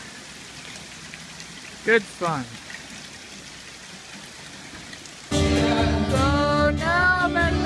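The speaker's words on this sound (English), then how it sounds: "what would camp be without pouring down rain?" Pouring rain at a camp makes a steady soft hiss in the background, with a brief voice near the start; partway through, loud voices and music come in over it.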